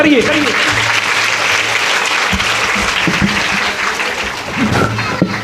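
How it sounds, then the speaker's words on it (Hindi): Strong applause fills a hall at a Hindu religious discourse on the Devi Bhagwat Katha as the family head is welcomed, a dense sustained clapping with a few voices rising over it near the end. "एक जोरदार तालियों से इस परिवार के मुखिया आदरणीय अशोक सिंह का स्वागत करिए"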